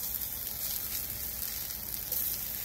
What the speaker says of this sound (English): what I'm getting ready to do now is to roast my onions and ginger